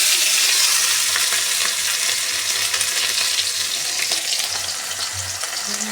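Chopped onion and green chilli frying in oil with five-spice, whole garam masala, cinnamon and cloves, giving a loud, continuous close-up sizzle with faint stirring scrapes throughout.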